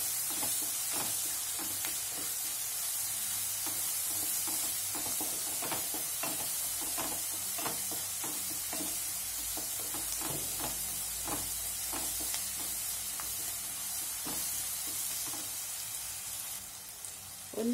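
Okra (bendi) frying in a pan for a bendi baji, with steady close sizzling and hiss and occasional scraping stirs of a spoon, no talking.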